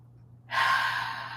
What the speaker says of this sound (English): taking a deep breath in through the nose, out through the mouth